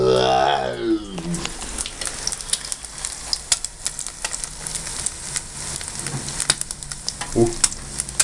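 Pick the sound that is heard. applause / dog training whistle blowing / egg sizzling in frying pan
egg sizzling in frying pan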